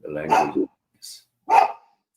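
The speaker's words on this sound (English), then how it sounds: "I'm sorry about my pups barking" Small pet puppies bark indoors in a short burst, close and fairly loud, with a brief yip and a second bark after a pause; a person speaks around the barking.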